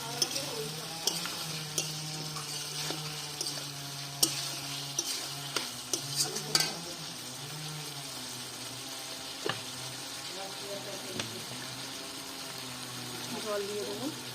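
Fried cauliflower for a cauliflower roast sizzles steadily in a pan while being stirred, with occasional sharp clicks and scrapes from the utensil over the continuous hiss.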